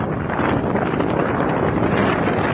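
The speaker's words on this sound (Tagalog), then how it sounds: "Rinig na rinig ang pagugupit ng malakas sa hangin." Strong typhoon wind in Batanes roars and buffets the microphone in a constant, loud, rushing blast.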